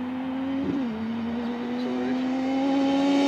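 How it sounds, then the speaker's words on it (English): A Yamaha YXZ side-by-side fitted with an air intake spacer holds a steady, droning engine note on a speed run, pitch climbing slowly as it pulls hard throughout. "here we are with the speed run after the air intake spacer"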